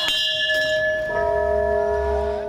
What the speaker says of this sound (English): 12 doctors and nurses from the hospital performed in the bell and drum performance to bring a soft but strong touch to the Buddha Day ceremony